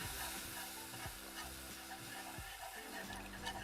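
A whisk beats milk into a roux in a pan, scraping in a steady rhythm of repeated strokes over a soft constant sizzle.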